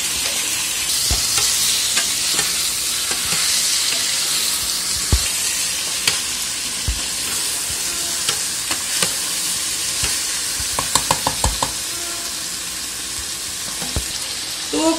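Chicken pieces sizzle loudly in a pan while being sautéed and fried, a constant frying hiss with sharp scraping strokes of a spoon throughout and a quick run of rapid clicks near the end.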